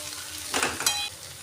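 Cauliflower and potato pieces fry on low gas in a pan, a soft steady sizzle rising briefly with stirring scrapes and clinks near the middle, with no talking.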